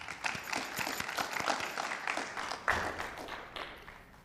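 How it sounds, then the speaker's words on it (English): Audience applause for a student presenter at a senior passion project presentation, a modest, fairly thin round of clapping from a room, steady for about four seconds with individual claps distinct. "Please give a round of applause for Jeslie."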